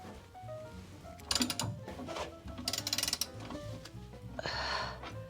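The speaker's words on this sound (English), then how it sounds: "Hurry up and undo it, unscrew it here." A ratchet wrench clicks in quick bursts while the oil drain plug is unscrewed on a 1929 Ford Model A Roadster, with close, sharp metallic ratcheting in several separate runs.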